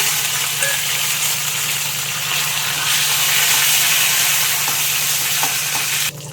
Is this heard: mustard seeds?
yes